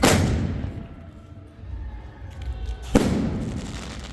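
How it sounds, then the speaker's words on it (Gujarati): Firecrackers burst at a school celebration: a loud crack opens, a low rumble and rolling thumps follow, then a second sharp close blast near the end with rumbling decay. "હવે લવિંગિયાને ધડાકા કરે"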